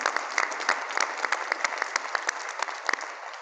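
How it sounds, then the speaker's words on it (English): Audience clapping at a community celebration marking a hundred years of a United Way chapter, thanking sponsors, with distinct sharp claps standing out over a steady bed of applause that gradually thins toward the end. "Let's give them all a round of applause."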